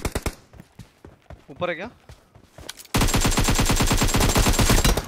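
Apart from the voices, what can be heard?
gunfire in PUBG video game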